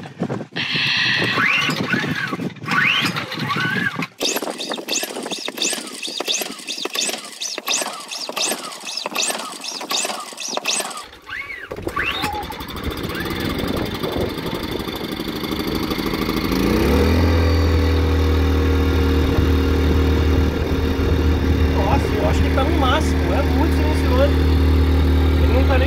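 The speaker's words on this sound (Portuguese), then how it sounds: "E é um barulho de motor gostoso ainda, né?" A sailboat's motor runs with a steady, throbbing drone that grows louder and deeper toward the end, while people talk over it.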